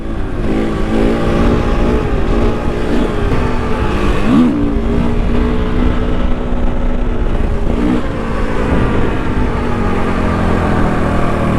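A newly bought motorcycle engine runs close by and loud, a continuous throbbing hum with strong harmonics and a couple of brief pitch swells from throttle blips, with no talking over it.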